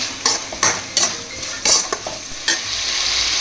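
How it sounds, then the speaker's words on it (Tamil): Tomatoes are stirred in a frying pan, a utensil scraping and knocking against the pan in several sharp, irregular strokes over a soft sizzle, with no talking. "அப்புறம் நம்ம தக்காளி கொட்டிக்கலாம்"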